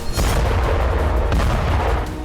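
A massive vacuum bomb explosion in the war in Bakhmut roars continuously, a dense, deep rumbling blast that barely lets up for over two seconds.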